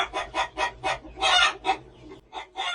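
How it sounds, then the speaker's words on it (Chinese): A live rooster clucking in a quick series of rhythmic bursts, fairly close and clear with nothing else over it. "是鸡，是活的大公鸡。"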